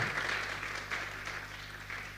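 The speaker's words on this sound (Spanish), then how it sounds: "un aplauso para todos aquellos que vienen por primera vez" A church congregation applauds first-time visitors during a service, a soft sustained patter of many hands clapping in a reverberant room, with a steady low hum underneath.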